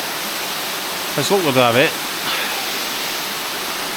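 Steady broadband rush of Middle Black Clough waterfall on a hillside hike, a continuous even roar filling the scene while someone speaks briefly over it.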